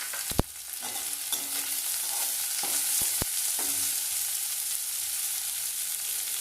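Onion stirred and fried in a pan: a constant bright sizzle punctuated by a few loud metallic knocks of the spoon against the pan, close up and without speech.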